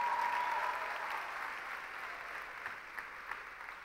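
Church congregation applauding in a steady, distant wash of clapping that fades slightly over several seconds, with a brief tonal hum at the start.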